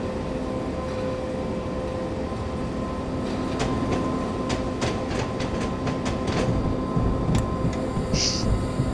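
A train in Train Simulator 2020, nearing Siegen, rumbles along with a steady low drone, and a series of sharp clicks and clacks from the rails rises partway through.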